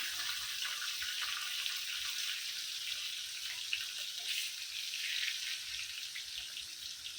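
Fish steadily frying in hot oil in a pan during home cooking of a prawn masala biryani meal, a continuous close, even hiss and crackle with no talk over it.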